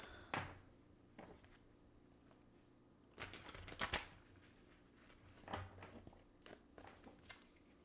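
Rider-Waite tarot cards being handled, with quiet scattered rustles, light flicks and brief shuffling bursts, close and soft in a calm room with no talk.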